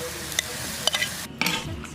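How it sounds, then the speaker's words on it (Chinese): Chicken pieces stir-fry in sugar-glazed oil with a soft sizzle, broken by sharp spatula clinks and scrapes against the pan in a Shaanxi home kitchen. "鸡肉炒出水分，炒上色"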